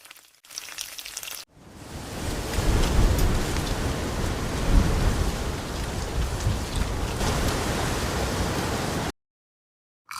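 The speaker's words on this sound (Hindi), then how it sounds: "बाहर इतनी तेज बारिश हो रही है।" Heavy rain pours down outside in a steady, dense wash of noise that holds for about seven seconds, with no voices over it, before cutting off abruptly.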